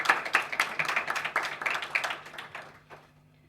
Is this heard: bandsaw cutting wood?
no